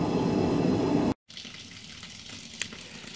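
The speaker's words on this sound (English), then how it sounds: "now we're just transferring it over on top of the grains here in our mash tun." Hot water at 160 degrees pours onto grains in a mash tun while brewing a Belgian pale beer, a loud continuous gushing that cuts off abruptly partway through, followed by quieter room sound with a faint tap.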